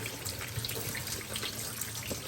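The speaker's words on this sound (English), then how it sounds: "I run my water and I just rinse them" Tap water streams steadily into a kitchen sink while food is rinsed under it, a continuous splashing hiss with small shifts as the items move through the flow.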